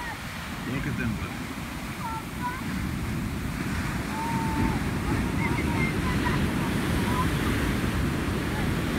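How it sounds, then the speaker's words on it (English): Ocean waves break and wash on the shore in a steady roar, with wind noise buffeting the microphone and distant voices faint in the background. "Look at them waves."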